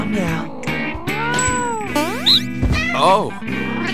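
Cat meowing in the video game No More Heroes 2, several rising and falling mewing calls in quick succession, mixed with other bright game sounds.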